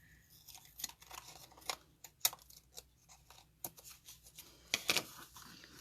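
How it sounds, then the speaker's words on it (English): Long scissors cutting through decorative paper during a stamping craft session, heard as a series of short, crisp snips and rustles at irregular intervals, close and fairly quiet. "now I'm going to take a long pair of scissors"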